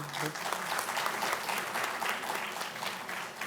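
Sustained applause from a large audience at an education policy symposium, steady dense clapping filling the hall throughout, with a voice faintly audible at the very start.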